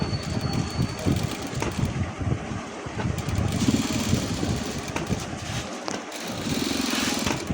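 A sewing machine stitches a side pocket with a flap onto a pair of shorts, running a double line of stitching. A steady, close mechanical whir with rapid needle chatter runs unbroken throughout.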